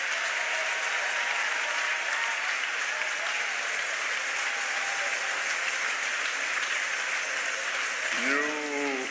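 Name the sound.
church congregation applauding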